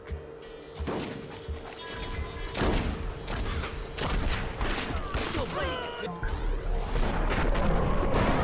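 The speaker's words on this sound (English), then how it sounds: "Who's shooting at him?" Gunshots ring out in the Wild West shooter Red Dead Revolver, sharp repeated cracks and blasts among crashes and whistling effects, loud and dense throughout, with a faint voice in the mix.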